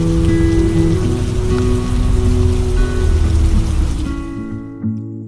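Monsoon rain falls on arrival in Siliguri, a dense, steady patter with a low mechanical hum beneath it. It thins and fades toward the end.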